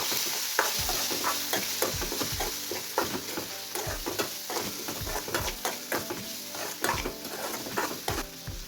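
Asafoetida is stirred into spices frying in a pan for a masoor dal and onion dish, giving a soft sizzle under frequent rhythmic scraping and clinking of a spoon against the pan, with no speech.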